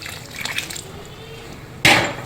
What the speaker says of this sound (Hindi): इसमें मजीद अभी मैं पानी और डालूंगा